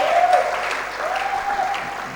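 A church congregation at a Sunday service applauds, a moderately loud, continuous patter of clapping with a faint sustained tone underneath.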